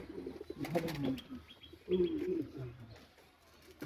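Male Sirazi pigeons at a farm give low, throaty coos in short bursts at close range, with a few light chirps and some quiet rustling between calls.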